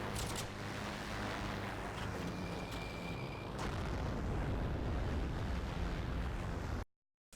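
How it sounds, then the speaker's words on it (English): Aircraft bombs exploding in the video game Heroes and Generals, heard as a steady, heavy rumbling roar of blasts and wind-like noise that holds loud and even for several seconds before cutting off abruptly. "I just wanted to give you a couple of narrated examples of whenever I release the bomb on specific targets."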